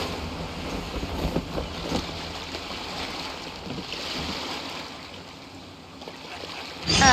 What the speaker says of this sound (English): Sound of the ocean waves.